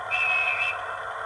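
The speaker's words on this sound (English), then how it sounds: "Guard's whistle." A guard's whistle from a DCC sound decoder in a model railway locomotive gives one clear, shrill, sustained blast of about half a second, followed by quiet background hiss.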